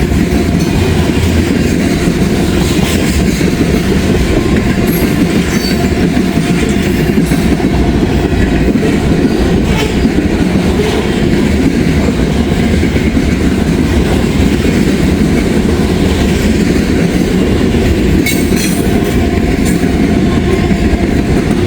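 A freight train with a DPU locomotive passes at close range, a loud, unbroken rumble with rhythmic clickety-clack of wheels over rail joints throughout.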